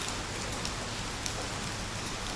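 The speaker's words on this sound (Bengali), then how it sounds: "অনেক বৃষ্টি হইতেছে, একটু নিচের দিকে তাকালে বুঝতে পারবেন কি পরিমাণে বৃষ্টি হইতেছে" Heavy rain pours down in a steady, dense hiss with no pauses, loud and close, with no voices.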